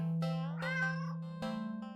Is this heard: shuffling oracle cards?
no